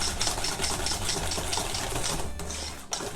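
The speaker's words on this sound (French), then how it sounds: "Donc on va fouetter énergiquement" Egg yolks whisked energetically with sugar in a bowl, a fast, steady, rhythmic scraping and tapping that runs without pause, close and loud, with no talking.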